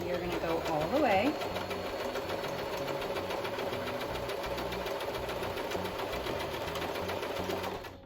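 A small sewing machine stitches fabric for a scrunchie with a continuous, noisy mechanical whir and rapid needle knocking that runs steadily for several seconds, with a voice heard briefly early on.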